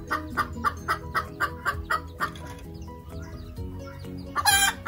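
A hen clucks close by in a quick, regular run of sharp clucks, then pauses briefly and finishes with a louder, rougher squawk at the end, alone with no voices.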